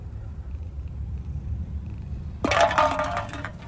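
Cats in the video game Summer of '58, a low purr-like rumble running steadily, then a sudden brighter burst of mewing sound near the end, fairly close.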